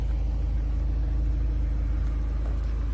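A 2019 Volkswagen Polo GTI with automatic transmission and petrol engine, idling with a steady, deep, even rumble heard close up and unchanging throughout.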